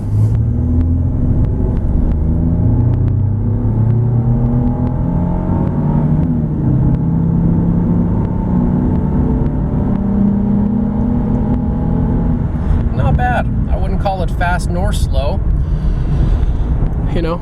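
A 2007 Jeep Grand Cherokee Laredo 4x4 with a 6-cylinder engine pulls from 0 to 60 mph, a steady loud engine drone and road rumble rising in pitch, with air conditioning blasting and a voice talking over it.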